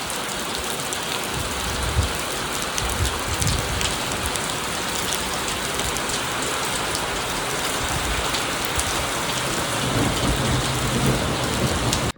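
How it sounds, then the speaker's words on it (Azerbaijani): A heavy evening downpour with thunder, pounding rain in a dense, unbroken roar with low rumbles underneath, loud and constant from start to finish. "Axşam bir dənə Leysan getdi, bir dənə Leysan getdi."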